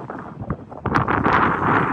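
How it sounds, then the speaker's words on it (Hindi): Strong wind blowing at the Kanyakumari seashore near the Vivekananda Memorial at sunset, a steady broadband rush that grows louder and gustier partway through, with faint scattered knocks in the background. "भाई क्या हवा चल रही है यहाँ पे"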